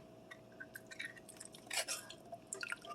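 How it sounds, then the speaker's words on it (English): Tomato juice is poured into a crock pot for cola BBQ ribs, heard as faint, close drips, splashes and wet squishes in short irregular bursts. "I'm also going to add the juices from the tomatoes"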